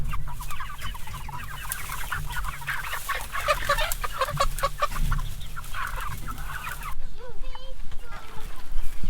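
Meat chickens cluck and squawk busily nearby in a steady, overlapping chorus, with a sharper bird call near the end.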